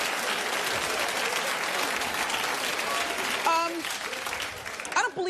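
Studio audience of a daytime talk show clapping steadily and loudly for about five seconds, with a brief voice and whoops near the end.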